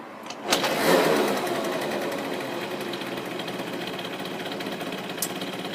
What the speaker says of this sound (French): Donc voilà le scooter quand il tourne